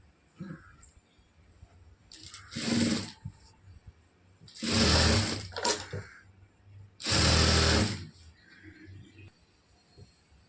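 A sewing machine stitches the side seam of a churidar in three steady runs of one to two seconds each, with short pauses between them, close and clear.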